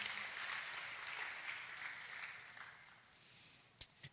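A church congregation claps loudly in praise after a prayer, a steady wash of applause that gradually thins and trails off, ending with a sharp knock.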